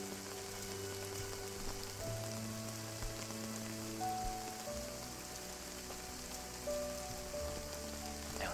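Rain patters steadily on surfaces along a wooded trail, a faint, even hiss of drops, with soft tonal hums running underneath throughout.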